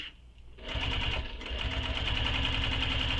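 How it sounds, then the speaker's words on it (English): A sewing machine runs steadily along the full length of a fabric bag strap, starting after a brief quiet pause and then humming and rattling continuously at close range with no talking. "So I'm just stitching all the way down the entire length of the strap"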